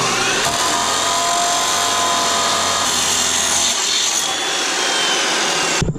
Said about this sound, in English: now that we actually have a good blade on the cold cut saw, we can use it to get straight cuts